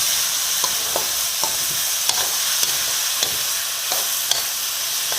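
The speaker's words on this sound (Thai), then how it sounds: "ซอสถั่วเหลืองนะคะ พัดให้เข้ากันนะคะ" Offal stir-fries with basil and soy sauce in a hot pan, a loud steady sizzle punctuated by regular scraping strokes of a spatula roughly every half second, close up, with no talk.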